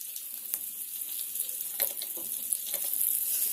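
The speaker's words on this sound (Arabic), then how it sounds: "عاد غادي نحطو في الزيت" Flour-coated sardines fry in hot oil with a steady high-pitched sizzle, punctuated by soft pops and a few clinks as pieces are laid into the pan, with no talking.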